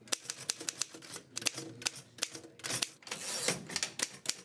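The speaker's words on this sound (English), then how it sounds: "If you hear me typing, you know I'm not working." Typing on a 1926 Underwood No. 5 manual typewriter: a rapid, irregular run of sharp key strikes close by, with slightly heavier clacks and a brief mechanical rattle partway through, heard alone without voices.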